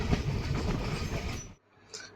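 A Konkan Railway passenger express train rumbles along the rails with a steady rolling roar and faint clatter, loud and close, then cuts off abruptly.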